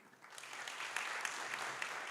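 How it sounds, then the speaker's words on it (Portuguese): A crowd applauds steadily, a dense patter of many hands clapping at moderate distance, building briefly and then holding. "eu vou pedir agora uma forte salva de palmas para este lindo projeto"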